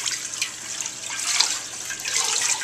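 Brined chicken is rinsed under a running kitchen tap, a steady close hiss and splash of flowing water that continues without a break.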